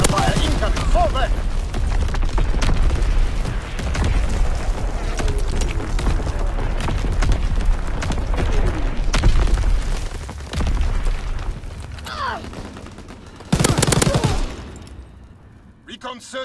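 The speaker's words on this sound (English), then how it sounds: "Incoming enemy artillery! Get to cover! Enemy mortar fire incoming!" Call of Duty WWII game combat: dense, loud barrages of mortar and artillery blasts with rolling booms and gunfire fill the scene continuously, a sharp heavy explosion near the end, with shouted voices mixed in.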